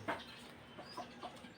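Chickens clucking in short, soft bursts at a small backyard chicken coop, a few close calls spaced over a quiet background.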